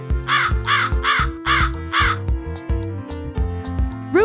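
A hooded crow caws loudly in a run of four or five harsh, rasping calls at a steady pace, close by, over a continuous rhythmic background beat that carries on after the calls stop.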